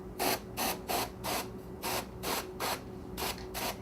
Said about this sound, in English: I'll just use a little cold spray.